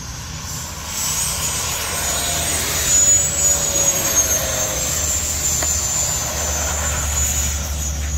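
Several all-electric RC F-16 model jets fly at an outdoor fly-in, an FMS model among them, producing a steady high-pitched ducted-fan whine with a rushing roar that holds loud and constant.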